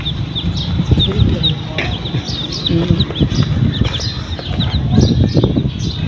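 Ten chicks in a backyard cheep with repeated high peeping calls amid nearby chickens and farmyard noise, with people talking close by over the chirping.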